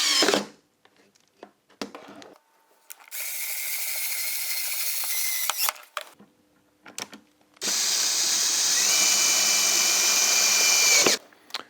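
A power drill drives screws into a wooden craft fair display shelf, with two long high-pitched whirring runs of several seconds each, separated by short bursts, clicks and handling knocks.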